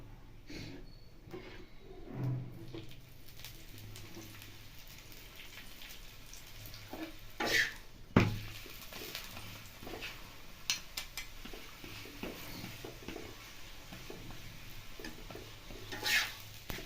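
Coriander leaf paratha frying in a pan, with a low steady hiss under occasional soft clinks and scrapes of a utensil against the pan, fairly quiet and close throughout.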